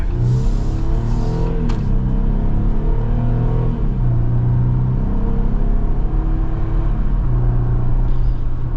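A 2025 Jeep Wrangler Rubicon Xtreme Recon accelerates hard from a standstill, its loud engine rising steadily in pitch through the gears as a continuous close rumble with no talking.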